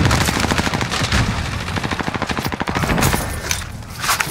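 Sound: gunfire in video game Call of Duty Warzone

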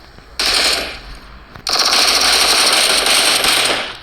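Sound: gunfire while shooting an enemy in PUBG Mobile video game

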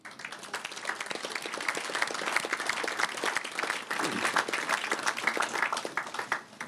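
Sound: audience applause at UN luncheon

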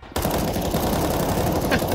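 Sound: gunfire in Counter-Strike 2 video game

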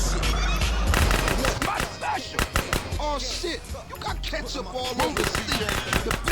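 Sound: gunfire in the video game GTA San Andreas

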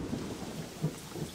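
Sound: rain and thunder sound effect

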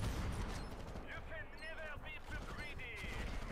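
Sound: sniper rifle gunfire in a video game

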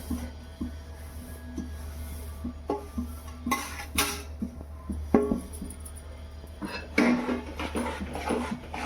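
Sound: stirring sesame seeds into jaggery syrup

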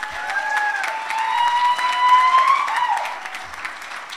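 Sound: audience applause at a graduation ceremony

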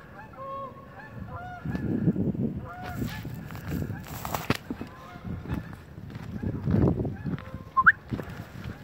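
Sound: Canada geese honking while flying over a valley

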